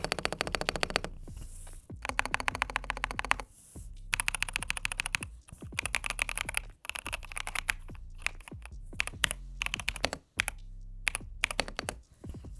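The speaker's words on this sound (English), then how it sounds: "bring it a little bit closer to the keyboard so you can hear what it sounds like as I click" Clicky keys on an EPOMAKER Shadow-X 70% mechanical keyboard, pressed close up in quick irregular bursts of sharp clacks with brief pauses between runs, no voices.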